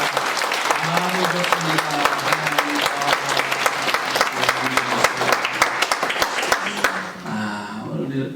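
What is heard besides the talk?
church congregation applauding to welcome new members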